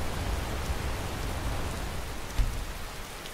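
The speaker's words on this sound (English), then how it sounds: "the rain is looking pretty good" Steady rainfall in Skyrim with the Nimbus weather mod, an even hiss of drops on surfaces at moderate level with a faint low rumble, continuous and alone without voices.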